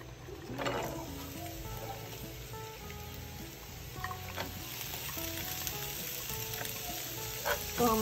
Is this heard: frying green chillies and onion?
yes